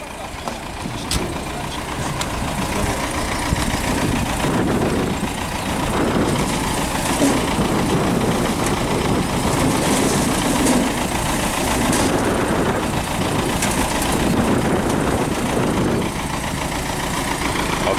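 A Belarus MTZ-82 tractor engine runs steadily and loud through the whole stretch during potato planting with an SN-4B planter on a farm, a continuous low mechanical drone with faint voices under it.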